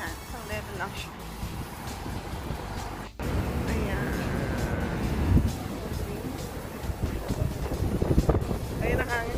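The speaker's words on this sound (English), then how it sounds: "That's the wind." Strong outdoor wind buffets the microphone near Meriton Kent Street in Sydney, a steady loud rush with gusts and a brief dropout midway, while people talk throughout.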